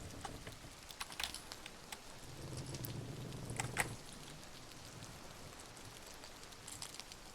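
Light rain patters steadily in the video game The Mound: Omen of Cthulhu, a soft, even hiss broken by scattered drops and faint clicks, with a low rumble swelling briefly near the middle.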